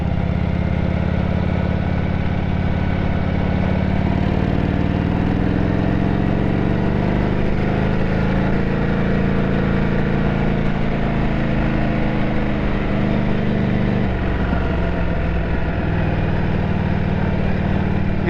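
A Harley-Davidson motorcycle fitted with mufflers idles steadily and loudly, a deep continuous rumble with a slight shift in tone near the end, no voices over it.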